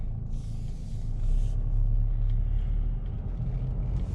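A 2016 Mercedes-Benz E250 BlueTEC diesel sedan drives along, giving a steady low road rumble and engine drone that swells slightly midway, heard from inside the cabin with no talking.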